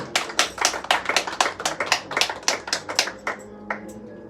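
A church congregation claps in a steady rhythm, about sixteen sharp, bright claps in four seconds before they thin out. The sound is close and loud, and no one speaks.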